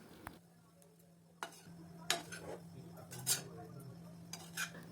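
A spatula stirs a green wheat laddu mixture of grain and jaggery in a pan over a low gas flame, giving soft scattered scrapes and taps over a steady low hum, with a few louder clinks.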